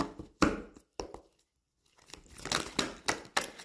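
Tarot cards are drawn and handled for a love reading, giving several sharp papery snaps and rustles separated by a short silence, then a quicker run of close, crisp card sounds.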